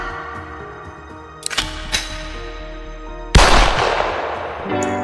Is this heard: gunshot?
yes